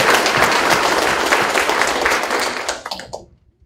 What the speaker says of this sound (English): Let's give another round of applause for Jaden Daughtry.